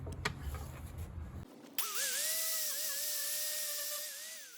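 A high-RPM grinder fitted with a stiff wire brush whines steadily while scrubbing rust off a vintage chef's knife, a sustained pitched drone that starts abruptly after a short burst of rougher mechanical noise, with no talk over it.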